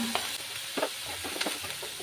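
Onion paste frying in a pan for an egg and brinjal curry, a steady sizzle broken by a few soft stirring scrapes, close and fairly quiet with no talk.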